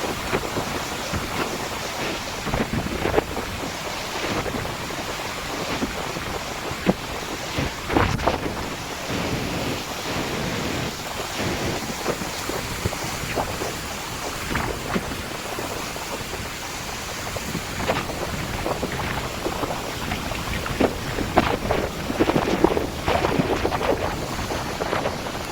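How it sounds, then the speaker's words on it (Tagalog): Strong typhoon wind roars across the coast at Calayo, Nasugbu, Batangas, a loud, continuous broadband rush with crashing surf, constant microphone buffeting and repeated gusts that swell and surge throughout, with no talking. "Hindi guys, ang lakas ng hangin."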